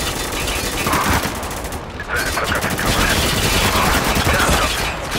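Dense, loud gunfire in the Spec Ops: The Line video game, a continuous barrage of overlapping shots and automatic bursts with a brief lull midway.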